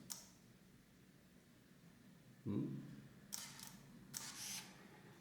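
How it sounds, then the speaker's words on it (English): A soft autofocus whir from a Contax T2 compact film camera, followed by two crisp shutter clicks about a second apart, close and quiet against faint room hiss. "The first you hear that click is the autofocus."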